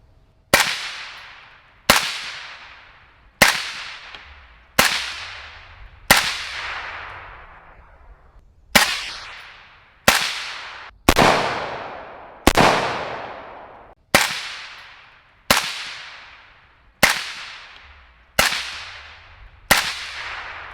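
A steady string of about fourteen shots from an AK-74 rifle fitted with a Black Anchor Tactical Nautilus suppressor, evenly spaced, each a sharp crack with a short fading tail.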